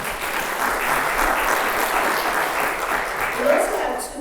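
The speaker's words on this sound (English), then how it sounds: "please join me in a round of applause for their dedication" A round of applause from the audience at an annual forum, dense and continuous clapping from a roomful of people at fairly close range, holding steady before tapering slightly at the end.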